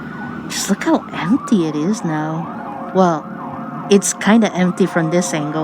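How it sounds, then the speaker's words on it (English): An emergency vehicle siren wails nearby with rising and falling sweeps at Buena Park Mall, loud and close, while a person talks over it. "Excuse the siren."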